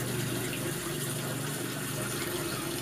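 Water trickles and splashes steadily in a small setup rigged to soothe white-rumped shama songbirds, imitating rain, a continuous gentle wash at moderate volume with no voices.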